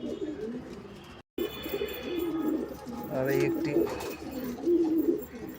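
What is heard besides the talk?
pigeon cooing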